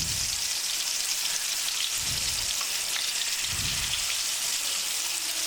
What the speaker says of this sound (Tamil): காஞ்ச உடனே மீனை போட்டு எடுக்க வேண்டியதான்.